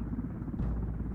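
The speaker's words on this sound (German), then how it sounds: "Wenigstens haben sie ein Heli." Helicopter in the video game Tom Clancy's Ghost Recon Wildlands, a steady low rotor rumble and buzz running the whole short moment at moderate level, with no voices over it.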